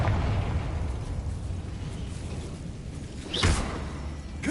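A Confringo blasting curse from the game Hogwarts Legacy erupts in a loud, sustained low rumble of explosive noise, with a sharp, bright burst and whooshing flare about two-thirds through before the roar settles again; no voices are heard.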